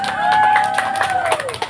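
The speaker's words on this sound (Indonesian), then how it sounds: "Tepuk tangan untuk kedua tim." Students applaud and cheer for two school debate teams in a hall, a short loud mix of clapping and shouting with a bright whistle-like voice rising over the crowd.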